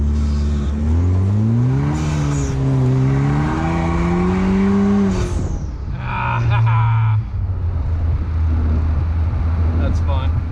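A turbocharged car accelerating hard, its engine pitch climbing and wavering through the gears, then a shift and a steady high drone, with a turbo whistle and whoosh audible; loud and close.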